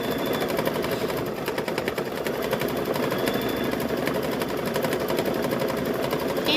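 An embroidery machine stitching a quilting pattern into a hooped quilt runs as a steady, fast, rhythmic needle chatter with constant motor hum, close and continuous throughout.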